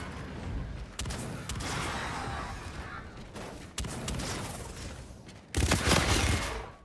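Gunfire in the video game Call of Duty Infinite Warfare, loud rapid bursts of automatic shots in several runs with brief pauses between them.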